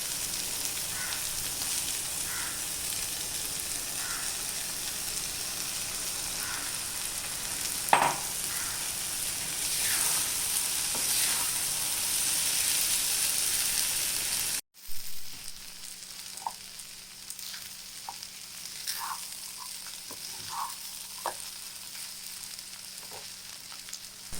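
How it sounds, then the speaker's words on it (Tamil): Rice being stirred into egg masala frying in a pan, a steady close sizzle with scraping spoon strokes, pausing briefly midway before lighter stirring and sizzling continues. "இப்போ நம்ம எடுத்து வச்சுருக்க ரைஸை போட்டு கிளறி வச்சிடலாம்."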